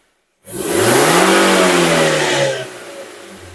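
A car engine revs up hard from silence, holds a loud rising whine for about two seconds, then drops back to a quieter idle of about 800 RPM with the air conditioning off.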